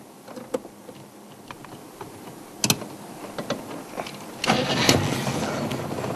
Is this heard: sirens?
no